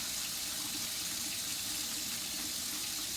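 Tap water running steadily into a sink during handwashing, a constant close hiss and splash with no pauses and no voices.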